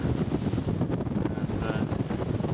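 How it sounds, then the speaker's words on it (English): Strong wind buffets the microphone outdoors on a bridge in icy Antarctica, a steady, loud rushing roar with gusty surges throughout and no other sounds. "It's a bit windy, very, very cold."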